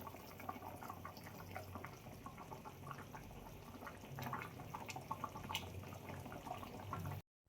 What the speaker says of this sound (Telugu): సూపర్గా ఉడుకుతుంది చూడండి.